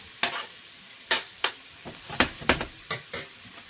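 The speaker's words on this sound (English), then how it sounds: "And then I'm going to put my champignons in." Mushrooms and onions frying in a pan and stirred with a utensil, a series of sharp scraping strokes, loud and close, over a soft sizzle with no talking.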